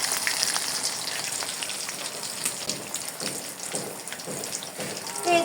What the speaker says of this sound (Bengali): মাঝারি আঁচে সবগুলো ভেজে নিতে হবে